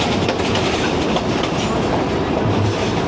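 The 125UP Lasani Express passenger train runs on rails as it nears Baddomalhi station, heard from on board as a loud, steady rumble with rhythmic clickety-clack of wheels over rail joints and no voices.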